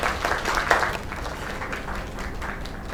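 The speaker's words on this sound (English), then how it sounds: "Another round of applause." Audience applause at a small live performance, a steady wash of clapping from a nearby crowd lasting about three seconds, swelling early then holding level.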